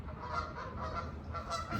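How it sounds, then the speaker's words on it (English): A flock of ducks or geese honks continuously outdoors, a steady chorus of overlapping nasal calls at moderate distance with no talking. "Here's some more ducks."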